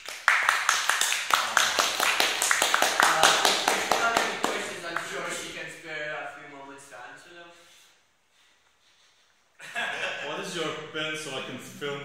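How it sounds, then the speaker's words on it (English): A big round of applause from an audience after an interview, dense clapping loud at first, thinning and fading into near silence before more claps and voices return. "Big round of applause, everybody,"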